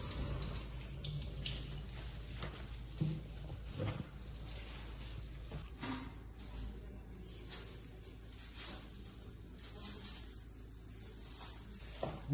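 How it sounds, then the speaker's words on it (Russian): Cold tap water runs steadily over Napa cabbage being rinsed of excess salt while making kimchi, a continuous splashing hiss through the whole stretch with small knocks and shifts of the leaves. "Промываем под холодной водой от лишней соли."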